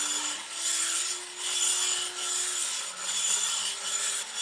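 A 1200 grit diamond sharpening stone being broken in, giving a steady close scraping rub in long back-and-forth strokes with short pauses between passes, heard alone.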